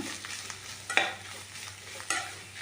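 Watermelon rind frying in ghee gives a low steady sizzle, broken by a few sharp scraping stirs of the spoon against the pan.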